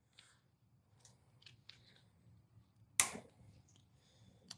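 Cutter snipping a part at an angle during repair of a 1970s Ariens snowblower, a single sharp close snip standing out after several faint small clicks and handling noises in a quiet room.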